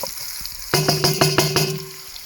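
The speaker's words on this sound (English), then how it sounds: "brown off, the chorizo sausage, we're going to try and get some of the fats and flavours and stuff out of that at the same time" Chorizo sausage and onions browning in a camp oven, a run of close, bright sizzles and stirring scrapes bursting in after a quiet start, with a steady tone underneath and no talking.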